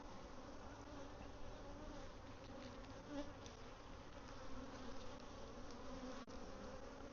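Honeybees buzzing at a hive while colonies are being split and nectar brought in, a continuous close drone of many wings that holds steady throughout, faint overall, with no talking.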